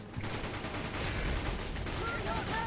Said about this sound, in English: Explosive barrels, yay!